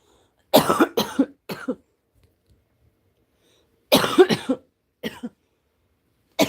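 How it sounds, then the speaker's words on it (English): A person coughs in two separate bursts of several harsh, close coughs each, with silence between them and a short cough at the end. "I don't want to keep coughing."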